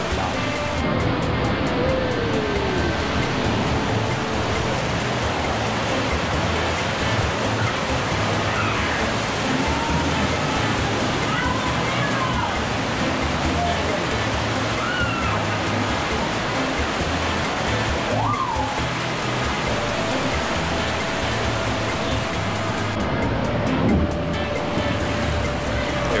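Water rushes loudly and constantly along the rapid river ride at the Atlantis water park in the Bahamas, a dense, unbroken roar of churning water throughout.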